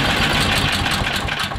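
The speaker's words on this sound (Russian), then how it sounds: "Вот когда даю газу плавненько, да? Развивает обороты нормально, но стреляет в глушитель." A Berkut snowmobile engine fitted with a PZ32 carburetor runs steadily and loudly through the whole stretch, with a rough, uneven note and small pulsing bursts in the exhaust.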